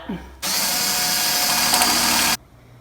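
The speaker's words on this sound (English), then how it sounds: "And then I'm going to go ahead and drill it out." A power drill whirs loudly at close range in one sustained two-second burst while drilling during a radiator install on a Honda Civic, starting and stopping abruptly.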